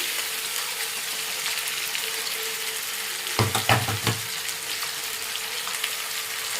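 Sizzling fish curry of chanduva (pomfret) fish fries steadily in a pan, then an onion-garlic masala paste drops in with a brief cluster of wet thuds and clatter before the sizzle settles again; no talking.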